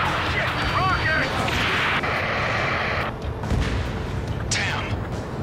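Rocket fire and explosions in the combat flight game Ace Combat 7: a dense, loud, continuous roar of blasts and booms, with sharper bursts near the start and end.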